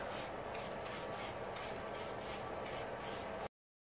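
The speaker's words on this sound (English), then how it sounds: "I'm just going to lightly go over the wood to give it more of a weathered look." A paint brush lightly sweeps over wood on a painted summer watermelon sign, giving a soft, steady rhythmic brushing with about eight even strokes close up, alone with no voices.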